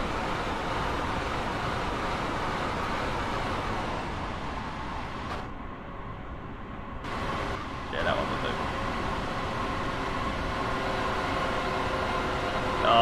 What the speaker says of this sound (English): There's another train going past.